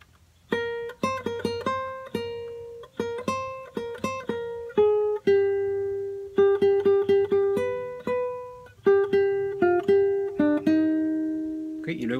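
Guitar melody of a song played in full, a steady run of crisp plucked notes in phrases with brief sustained pauses, close and clear with no talking.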